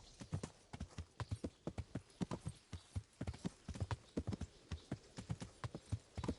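Horse hooves clip-clop at a steady riding pace in the video game Kingdom Come: Deliverance, crisp, close, rhythmic strikes continuing throughout without talk.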